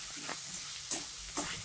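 Fried rohu fish head sizzling steadily in frying spice masala, a constant hiss with soft stirring strokes, no talk.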